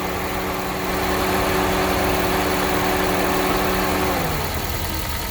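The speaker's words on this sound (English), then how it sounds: "You hear that? That's the fan." Cooling fan on a Toyota Prius of the 2004–2009 generation runs as a steady whirring hum close by, with its tones sliding down as it winds off near the end.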